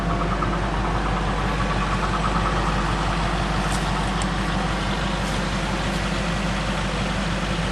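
A 1998 Buick Century engine idles steadily at close range, a low even rumble with a faint pulsing beat holding throughout without talk.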